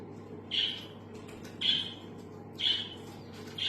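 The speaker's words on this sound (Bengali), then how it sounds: "পাখিগুলো ডাকছে" Several birds call outdoors near a home kitchen at midday, giving four short, bright chirps spaced about a second apart over a steady low background hum, with no talking.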